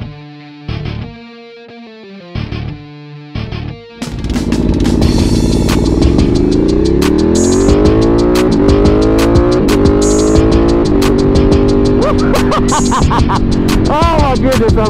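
Ducati 1199 Panigale superbike engine at a track day, several short loud blips of the throttle followed by a sustained high-pitched roar with rising and falling revs, close and dominant.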